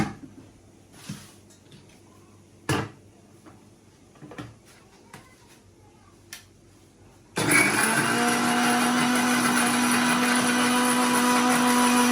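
A mixie blender grinds onions and other ingredients, starting abruptly after a few quiet knocks and then roaring loud and steady with a high motor whine to the end.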